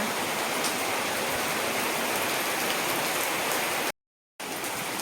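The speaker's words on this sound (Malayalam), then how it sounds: "നല്ല മഴ കേട്ടോ." Heavy rain pours steadily in a dense, unbroken hiss, with a brief cut to silence near the end before the downpour resumes.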